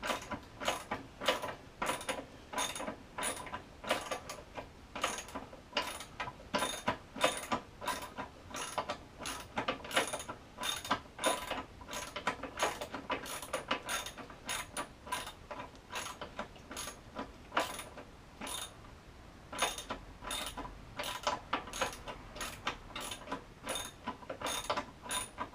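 A ratchet works the oil drain plug on a 2006 Kawasaki KFX 400 ATV, giving a long, steady run of quick, sharp metallic clicks in close succession, loud and near with no talking.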